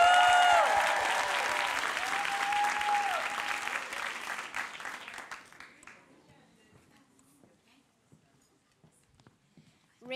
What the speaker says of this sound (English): Let's give wild applause for Carter.